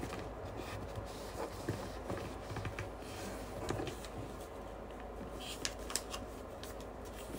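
Paper being folded into an origami balloon rustles and crinkles softly at close range, with light crisp creases and small taps, quiet and intermittent.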